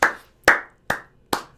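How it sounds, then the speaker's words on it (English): One person claps four times, each clap a sharp, close, isolated crack at a slow, even pace, with no talk around it. "I'm going to start putting in your applause when I speak."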